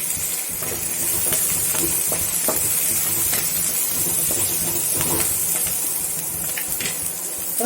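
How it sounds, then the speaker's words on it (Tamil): Small onions sautéing in a pan for white pumpkin sambar, a steady close sizzle with clinks and scrapes of a stirring spoon throughout, no talk. "எல்லாத்தையும் போட்டு நல்லா வதக்கி விட்டுருங்க"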